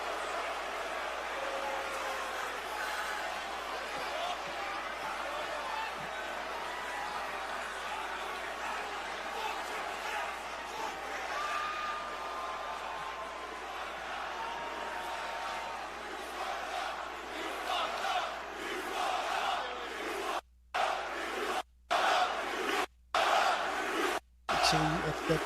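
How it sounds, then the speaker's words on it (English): A large WWE arena crowd jeers Triple H, a loud sustained rumble of booing and shouting voices that swells steadily, broken by several abrupt dropouts near the end. "They booing Triple H."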